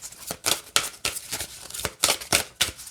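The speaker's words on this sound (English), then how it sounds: "And then we'll shuffle it this way." An oracle card deck being shuffled by hand, a quick series of close riffling and slapping bursts in irregular rhythm, with no talk.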